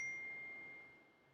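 A single soft computer notification ding rings out at the start and fades away slowly, a clear bright tone over a quiet background during a trading session.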